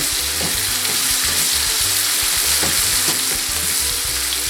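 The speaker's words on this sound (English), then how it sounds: "So now, I'm going to cook the onion, because the onion's going to cook down" Onion cooks down in a pan with a continuous dense sizzle and crackle, close and loud, with faint stirring taps underneath.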